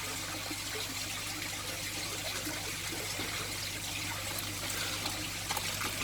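Water carrying zebra danio fry trickles and dribbles steadily into an aquarium tank, a continuous soft pouring sound over a low steady hum.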